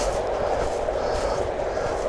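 A six-car Class 195 train on the Liverpool to Cleethorpes line runs past near Stallingborough, a steady broadband rumble of wheels and motors holding at an even level for the whole stretch, with no voices.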